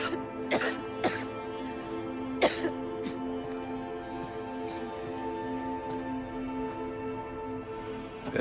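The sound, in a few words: character coughing in video game Silent Hill 2 Remake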